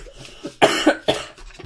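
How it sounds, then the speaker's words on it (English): A person coughs close up, giving two or three harsh throaty coughs in quick succession, loud against a quiet room with no talking. "Sorry, I'm coughing."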